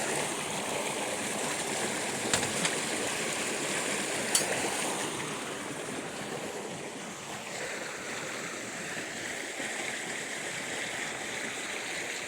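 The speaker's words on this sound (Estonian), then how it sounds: "juba vulisevad veed, kui sa lüüsid lahti teed" Water gurgling and rushing steadily through an opened irrigation channel fed from the mountains near Órgiva, Spain, a continuous close flow with no talking.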